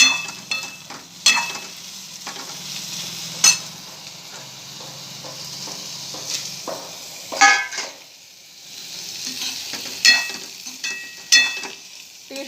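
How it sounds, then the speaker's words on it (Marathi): Bitter gourd frying in oil in a pan gives a moderate sizzle broken by repeated clanks and scrapes of a spatula against the pan, close by, with no speech. "चांगलं फ्राय करायचं हे तेलामध्ये चांगलं भाजून घ्यायचं"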